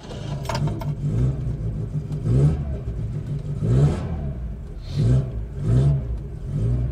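A Datsun car engine runs close by, rising in a series of rhythmic revs roughly every second over a throaty idle.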